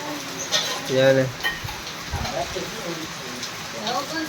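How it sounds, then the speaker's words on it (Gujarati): Heavy rain pours down in a steady, dense hiss throughout, with someone talking over the downpour. "આ રીતનો વરસાદ જો ચાલુ છે, આટલા નેવા શું છે, એમ તો ઘણો વરસાદ છે, ઓછો નથી"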